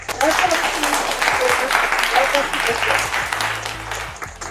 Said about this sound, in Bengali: একটা জোরে হাততালি হয়ে যায়